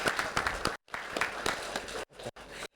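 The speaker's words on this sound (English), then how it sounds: "A round of applause for our personalities" Applause from attendees at a formal conference session, many hands clapping steadily at moderate volume, broken by a few abrupt cuts to silence.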